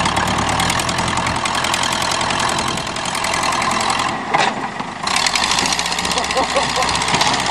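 A Ford tractor's engine runs loud and close on a farm during a demolition session, a rough, steady roar that dips briefly in the middle, with excited voices shouting over it.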